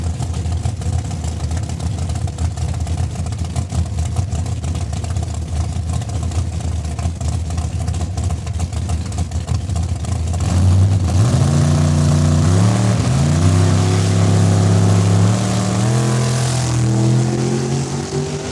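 Drag racing cars launch from the start line at Saskatchewan International Raceway, a steady rumble of engines building to a loud surge as revs rise and shift, heard from a distance over the track.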